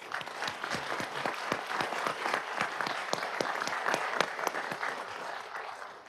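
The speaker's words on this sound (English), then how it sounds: "Let's give them a big round of applause." Moderate applause from a small audience at a City of Mobile, Alabama city council meeting, distinct individual claps forming an uneven rhythm, fairly quiet and close, fading near the end.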